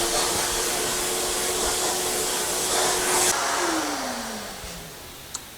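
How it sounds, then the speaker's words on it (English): A vacuum cleaner sucks up polyurethane sanding dust from a wooden plant stand, a loud steady whine close by that winds down as the motor is switched off, with a small clunk at the end. "Followed up with a quick vacuum here."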